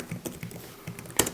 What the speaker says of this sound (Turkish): önündeki klavyeden mesela yazmaya başlıyorum